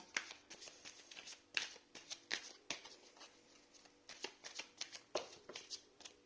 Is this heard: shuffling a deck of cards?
yes